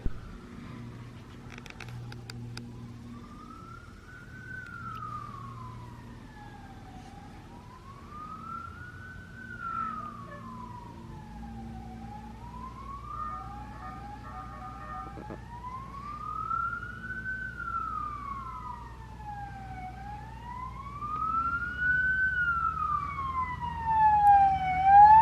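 A brush fire truck's siren wails in steady rising and falling sweeps over a low traffic rumble, growing louder toward the end.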